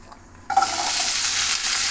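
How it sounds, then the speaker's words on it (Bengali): Mustard oil bursts into a loud, steady sizzle as potato pieces hit the hot pan after a brief quiet moment, then keeps frying evenly. "এবার আলুটাকে ভালো করে ভেজে নেব।"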